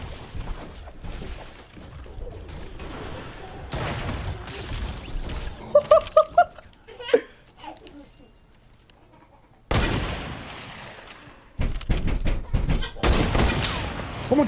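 Video game gunfire in Fortnite Battle Royale, with several sharp shots clustered in the middle and more bursts later, loud and abrupt amid game sounds and a player's voice.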